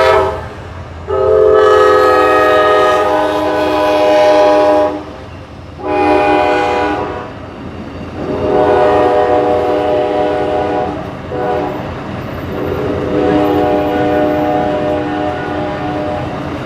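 A train rumbles past up close, its loud horn blaring in several long blasts over the steady roar and rattle of the cars.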